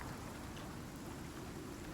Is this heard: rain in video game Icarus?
yes